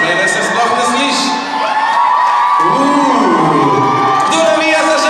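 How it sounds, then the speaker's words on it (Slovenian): A crowd of children cheers, shouts and whoops for the Žabice team at a youth group weightlifting competition. The voices are loud and sustained, with rising and falling yells overlapping throughout. "medtem pa lahko vi vadite svoje navijanje"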